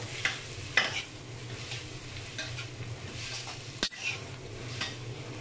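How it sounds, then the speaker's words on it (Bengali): Boiled vegetables are stirred in a hot pan for egg chicken fried rice, with a steady sizzle broken by several sharp scrapes and clinks of a utensil against the pan, heard up close without talk. "সিদ্ধ করে রাখা সবজিগুলো। কিছুক্ষণ নেড়ে চেড়ে নিব।"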